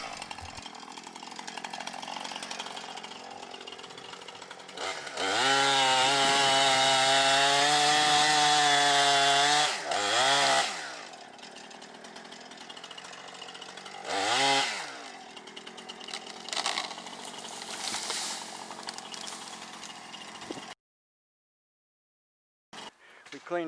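A chainsaw cuts eucalyptus limbs, its engine revving up into a loud sustained whine while biting into wood, then easing back to a rough idle with further short revs, and someone talks over it.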